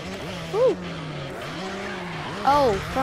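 Dirt bike in MX vs ATV revs along with a steady engine drone, and two sharp rising-then-falling engine whines spike loudly as the bike climbs and lands.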